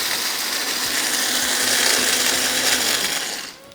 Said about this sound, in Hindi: ये गरम मसाला लेके हमने सिंपल इसको पीसना है, बिल्कुल फाइन पाउडर बनाना है।